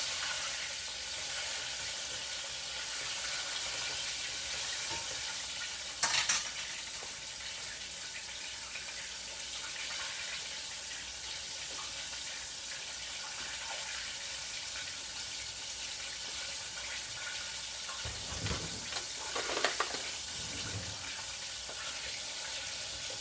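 Crappie fish frying in a pan gives a steady, soft sizzle throughout, with a couple of brief louder crackles and bumps, no voices.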